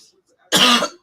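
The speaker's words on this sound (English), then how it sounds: "Sorry for the coughing" A man gives a single short, harsh cough close by, rough and throaty like clearing his throat, after a moment of near silence.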